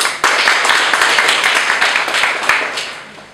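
An audience clapping together at a motivational talk, a dense, steady burst of applause that starts abruptly, stays loud and fades slightly toward the end.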